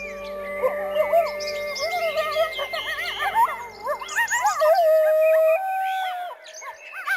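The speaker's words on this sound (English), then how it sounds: "the howl of the coyote echoes through the montane valleys" Coyotes in the Rocky Mountain wilderness yipping and howling in a wavering chorus, several voices overlapping in rising and falling wails, then a single sustained howl trailing off, fairly close and alone.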